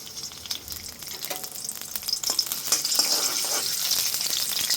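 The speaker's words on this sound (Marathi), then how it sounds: "आता आलं लसूणची पेस्ट आणि कढीपत्ता घालून आपल्याला हे छान परतून घ्यायचं आहे।" Ginger-garlic paste and curry leaves sauté in hot oil in a wok with a close, crackling sizzle that builds louder and denser over a few seconds, alone and without talk.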